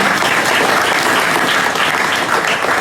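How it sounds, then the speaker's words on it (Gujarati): A room full of people at a girls' school function claps steadily for a few seconds, a dense, even burst of applause with no voices. "તાળીઓથી અભિવાદન કરો બધા"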